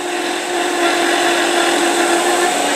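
Woodturning lathe and tool running at high speed, a loud, steady, close whine with a constant high hum throughout and no talking over it.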